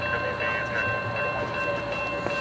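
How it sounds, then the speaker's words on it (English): A late Amtrak P029 passenger train passes at Brunswick during railroad days, a steady rolling rumble with faint clatter at moderate distance. "This train is so late."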